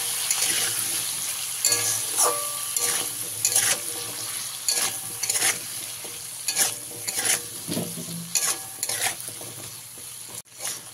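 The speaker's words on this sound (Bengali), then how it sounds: "আলুর মধ্যে দিয়ে দেবো পরিমাণ মতন লবণ, পরিমাণ মতন হলুদ গুঁড়ো দিয়ে এবার আলুটাকে ভেজে নেব ভালো করে" Cut potatoes with salt and turmeric fry in a pan, a steady close sizzle with rhythmic spatula scrapes and stirring strokes every second or so, plus a louder clank near the end; no one speaks.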